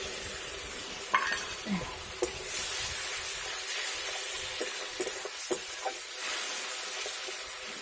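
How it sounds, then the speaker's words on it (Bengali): Whisked sour yogurt goes into a frying spice paste for a stuffed pointed gourd korma with prawn filling, giving a steady close sizzle broken by scattered scraping clicks of a spoon stirring the pan. "এখানে আমি অল্প একটুখানি টক দই ফেটিয়ে নিয়েছি, তো সেটাই দিয়ে দিচ্ছি।"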